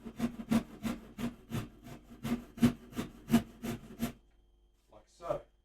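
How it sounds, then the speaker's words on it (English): A hand tool cuts a 45 degree bevel into a wooden guitar neck with a run of about a dozen rhythmic, close rasping strokes, then stops; a voice speaks briefly at the end. "you can cut into that 45 bevel"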